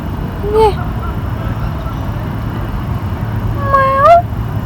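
A cat at a hotel gives two clear, rising meows, one short and one longer about three seconds later, over a steady low rumble of background noise.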